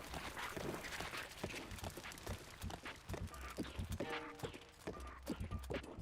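Horse hooves galloping across open terrain in The Legend of Zelda: Breath of the Wild, a steady rapid clip-clop running throughout amid game sounds and music, with a few brief tonal chimes midway.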